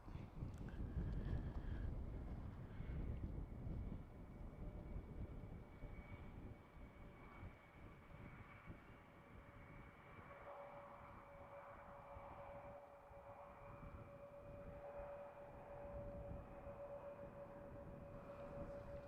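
A plane landing on Schiphol runway 18R in winter, a steady broad jet roar with a sustained engine whine, loudest at the start and then holding at a fairly even level under outdoor wind.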